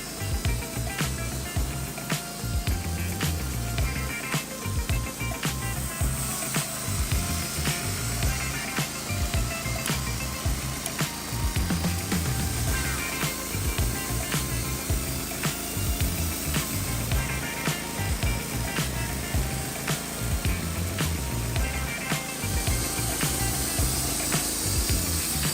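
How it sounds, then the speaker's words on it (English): Wood-Mizer LT15 sawmill blade cutting through large tree stumps to make smooth, uniform wood panels, a steady loud grinding drone with rapid rattling texture running unbroken from start to finish. "Wood-Mizer LT15 is being used by this hot girl to saw large tree stumps into smooth and uniform wood panels"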